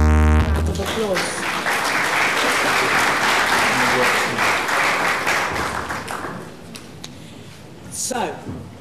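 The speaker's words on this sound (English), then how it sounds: "could we give him a round of applause?" An audience gives a round of applause at a civic event in Leicester, a loud sustained burst of many hands clapping that swells, then tapers off with a few scattered claps and crowd murmur near the end.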